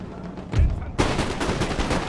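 Musket volley fire in the video game Empire: Total War: a booming, rolling burst of massed shots, followed by a second dense crackling volley that rattles on as a sustained fusillade, loud and close.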